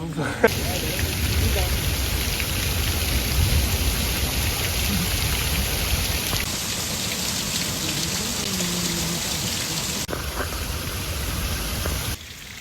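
Steady rain pours during a thunderstorm at a riverside kayak bivouac in the Tarn gorges, a constant close hiss of drops, with brief voices underneath.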